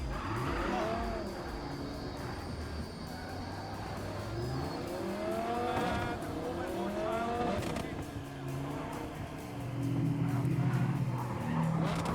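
A car in Cyberpunk 2077 drives and revs in repeated rising engine sweeps, its tires squealing at moments, with game music and effects running underneath throughout.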